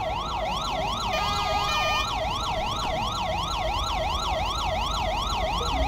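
A wailing ambulance siren in GTA 5 sweeps up and down in a fast, regular yelp, loud and continuous as the vehicle arrives, with a second siren tone briefly overlapping near the start and no talking.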